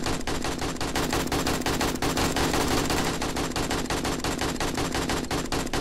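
Rapid, continuous automatic gunfire in the zombie survival game 7 Days to Die with the Darkness Falls mod, loud and close, dense bursts of shots running throughout with no talk.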